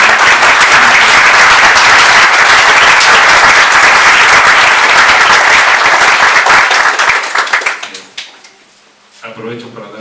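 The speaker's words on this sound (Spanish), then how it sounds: "Pido un aplauso, por favor," An audience at a presentation of a book on accompanying madness gives Alberto loud, sustained applause from many people, which breaks off abruptly near the end, leaving a few scattered claps and a brief voice.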